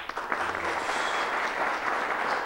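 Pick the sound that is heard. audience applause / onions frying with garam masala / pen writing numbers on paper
audience applause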